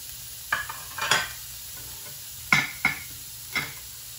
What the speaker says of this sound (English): stir that around, start toasting up that garlic and onion